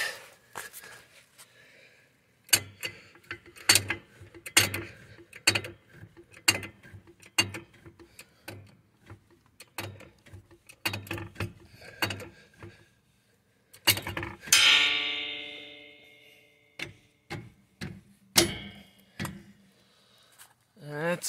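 A jack being worked under a trailer during a leaf spring replacement, giving a steady series of sharp metallic clicks and ticks, close by, followed by a brief rising ratchet-like rasp and a few more clicks.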